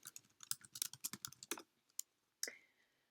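Keys clatter on a computer keyboard in a quick burst of about a dozen soft, close taps, then a pause and a final couple of strokes, quiet with no voices.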